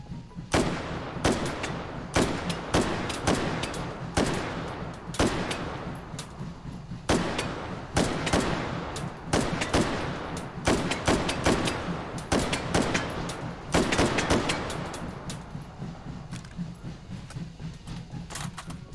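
Rapid, loud gunshots ring out in the VR shooter Hot Dogs, Horseshoes & Hand Grenades, sharp repeated bursts in irregular clusters with brief pauses between volleys.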